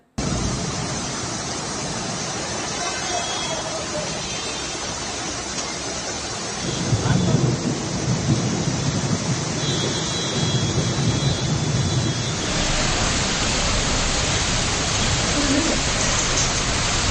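Heavy rain pours in a dense, unbroken roar during a thunderstorm, with deep rumbling swells of thunder rising partway through, loud and continuous for the whole stretch.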